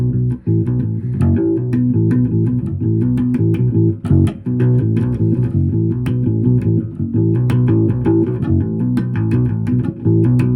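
A song played in a busy, continuous run of fast 16th-note figures with sharp attacks, heard up close with no talking.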